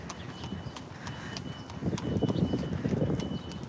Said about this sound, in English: Can you hear the clip-clop of the horse carriages?